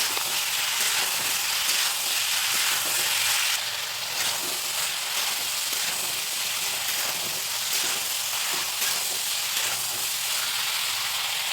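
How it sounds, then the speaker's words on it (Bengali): Pre-fried potatoes going into a spiced masala frying in a pan, giving a steady, loud sizzle and hiss that runs unbroken throughout with no voices. "ভালো করে মশলা কষিয়ে নেওয়ার পর আগে থেকে ভেজে রাখা আলুটা এর মধ্যে দিয়ে দেবো।"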